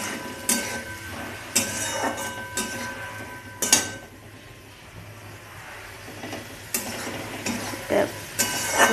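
Ground spice paste is stirred and sautéed in a hot pan while cooking banana flower, with a soft continuous sizzle broken by repeated spatula scrapes and clinks against the pan at close range; no speech.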